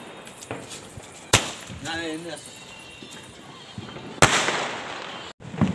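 Diwali firecracker bombs bursting outdoors, two sharp loud bangs several seconds apart, with people talking in between.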